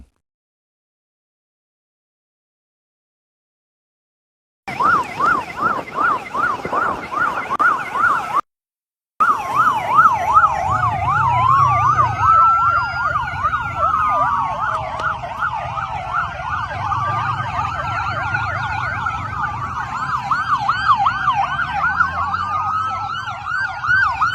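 A convoy of emergency vehicles with a highway police escort approaches with overlapping wailing and yelping sirens. The sirens start after a few seconds of silence, briefly cut out, then continue loud over rumbling traffic.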